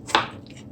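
One quick, close knife cut into a tomato lands as a single crisp tap followed by a soft trailing rustle, for breadfruit fritters with smoked ham.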